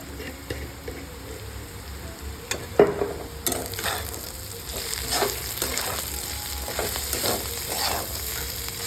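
A spatula stirs bitter gourd (karela) bhaji in a pan, giving repeated close scraping and a continuous frying sizzle that grows busier partway through, with no talk.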